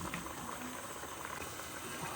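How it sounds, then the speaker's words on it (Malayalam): Paneer mattar curry boils in a pan with a continuous soft bubbling and hiss, close and fairly quiet, and no one talks over it. "കറി ഇവിടെ തിളക്കുന്നുണ്ട്."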